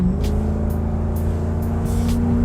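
A Jaguar XK8 V8 in sport mode rumbles steadily from inside the car, a deep continuous engine drone with shifting pitch during an automatic downshift, no talking.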